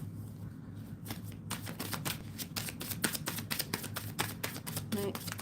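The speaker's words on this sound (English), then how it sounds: "Shuffling for Helga." Rapid riffling and flicking of tarot cards being shuffled, a quick series of crisp slaps and flutters close by over a low steady hum.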